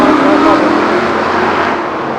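Stock cars roar together in a figure-of-8 street stock race with twelve cars on the grid, a loud, dense engine drone close by that fades slightly over the short stretch.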